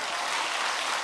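Dense, even applause from an audience at a church gospel meeting fills the whole moment at a steady level with no pauses.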